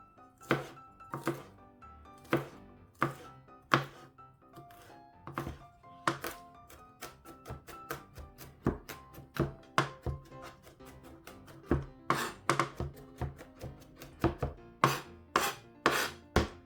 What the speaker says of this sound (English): Now that your garlic's all skinned, you can start mincing it.